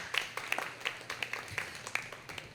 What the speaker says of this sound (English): Please give a round of applause to the Newsfeed Cafe for feeding us today and hosting us this afternoon.